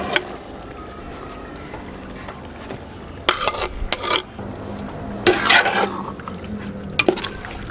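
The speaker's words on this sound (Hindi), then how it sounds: "तो अभी अच्छे तरीके से भूनेंगे मटन को हम मसाले के अंदर" Marinated mutton is stirred and fried in masala in a pot, with bursts of scraping and sizzling spatula strokes recurring every second or so over a soft background, close and moderately loud, with no talk.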